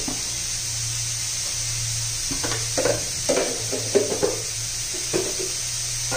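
Chutney seasoned with salt and a pinch of sugar is stirred in a frying pan over a steady sizzling hiss, with irregular spoon scrapes and scuffs close by and no talking.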